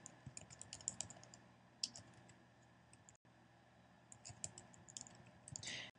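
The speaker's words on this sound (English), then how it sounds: "So I'll start typing that in." Quiet, rapid computer keyboard typing clicks away in bursts, with a short pause in the middle before the tapping resumes.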